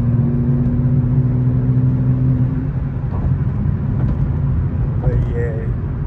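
A rear-wheel-drive BMW G80 M3 cruises along on the drive to a dragstrip, giving a steady low engine hum and road drone from inside the car while someone talks over it.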